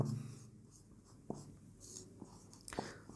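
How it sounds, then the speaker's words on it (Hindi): Faint handwriting strokes, a few scratchy marks in quick succession, made while writing examples during a Hindi grammar lesson; quiet and close with no talking. "ठीक इसी प्रकार लिखेंगे सीताराम"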